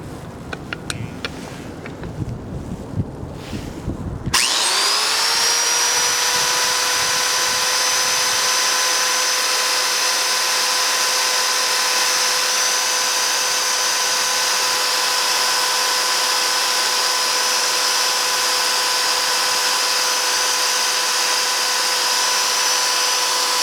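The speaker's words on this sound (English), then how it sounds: "Going to adjust the drill 2 to 3." A power drill starts after a few seconds of handling noise and runs steadily at high speed, a loud continuous whine close by, drilling into a Medeco payphone lock.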